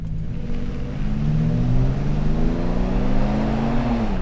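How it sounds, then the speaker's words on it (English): A Toyota 4Runner TRD Pro V6 with TRD exhaust pulls hard under full acceleration, its engine note rising steadily and loud from inside the cabin, with the pitch easing near the end as it shifts, and no talk over it. "I mean, it makes good noises with the TRD exhaust."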